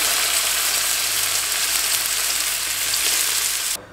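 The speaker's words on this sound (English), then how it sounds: "I seared off my fillet really well" Loud, steady sizzling of a beef fillet searing in oil in a very hot pan, continuous and close, cutting off abruptly at the end.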